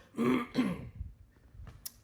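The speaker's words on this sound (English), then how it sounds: "I've got a little congestion, so I might be clearing my throat a lot" Two gruff throat clears from a congested person in quick succession, close and fairly quiet, followed by a few soft clicks and breaths.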